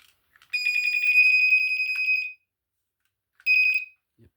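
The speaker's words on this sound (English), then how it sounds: "Just your classic GE warble tone." A General Electric 8201-401 smoke alarm sounds its classic warble tone: a loud, close, shrill pulsing beep lasting about two seconds, a short silence, then a second brief burst, with no voices.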